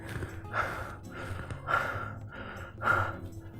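A person deliberately imitates the labored, gasping breathing of bloating linked to GERD and anxiety: three heavy, close breaths, each swelling and fading, with short pauses between.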